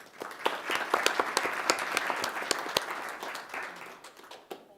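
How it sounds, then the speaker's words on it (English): A round of applause from attendees at a township council business meeting, steady, dense clapping of a small room audience lasting several seconds before tapering off, with a faint voice underneath. "We can give her a round of applause anyway."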